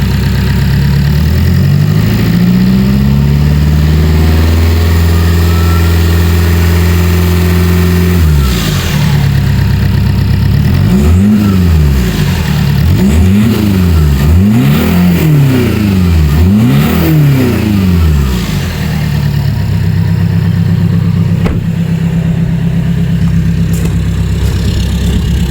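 A car exhaust idles with a deep rumble, then revs repeatedly in several sharp blips that rise and fall before settling back to idle, loud and close.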